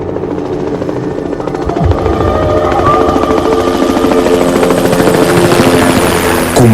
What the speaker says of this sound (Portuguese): ouviu no exterior do hotel o que lhe pareceu ser o ruído de vários helicópteros